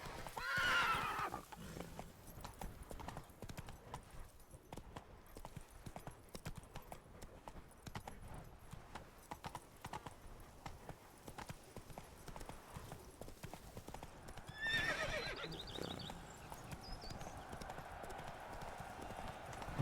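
Roach, the horse in The Witcher 3 in Toussaint, gallops with continuous rhythmic hoofbeats throughout, and clear neighs sound near the start and again about three quarters of the way through.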